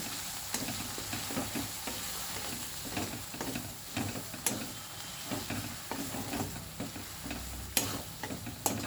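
Ground spice paste sizzles steadily in hot oil, stirred with repeated scraping and clicking strokes against the pan as it fries for a pointed gourd dish with mustard and poppy seed.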